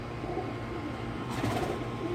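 Homing pigeons in a loft give soft, low cooing under a constant steady background hum, faint and intermittent.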